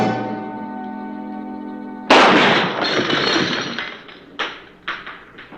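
A sniper's rifle shot bursts out in a western TV episode, one loud sharp blast after a sustained musical tone, followed by echoing tail and a few further cracking hits.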